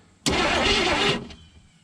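An old AMC Rebel car engine cranks and catches with a sudden loud start, running roughly for about a second before cutting out, then a brief faint sputter follows, close by with no talking.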